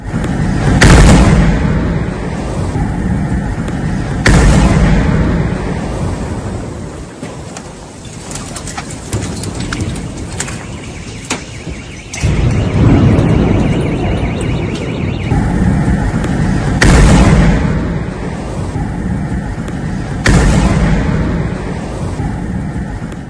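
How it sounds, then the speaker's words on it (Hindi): Missile strike explosions in Tel Aviv, Israel: several loud, booming blasts arrive at intervals over continuous rumbling roar and wind-like noise, with no speech over them. "देखा आपने कैसे धमाके की आवाज यहां पर सुनी गई।"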